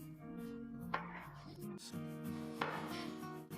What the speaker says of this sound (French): puis on les coupe en tranches